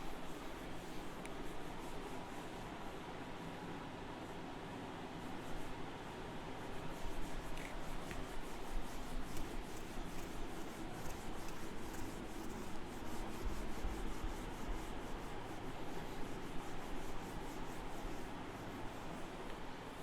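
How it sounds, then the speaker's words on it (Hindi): Steady, close scrubbing of an eraser or duster rubbed over a board to wipe off writing during a physics class, a continuous rasping sound that lasts throughout with no voice over it. "तो इसको हम रब कर देंगे।"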